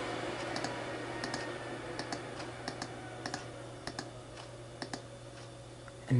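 Sharp, evenly spaced clicks from a computer mouse repeat about a dozen times over a steady low electronic hum, close and moderately quiet, with no talking.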